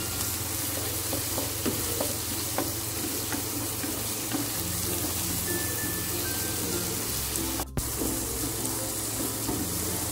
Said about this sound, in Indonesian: Akan saya masukkan ini oncomnya, udah saya haluskan ya oncomnya. Diaduk oncomnya.